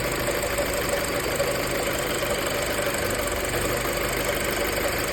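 An Audi A4 B7 engine idles erratically because of a faulty engine wiring harness, giving a steady, close mid-range hum with a slight knocking roughness throughout.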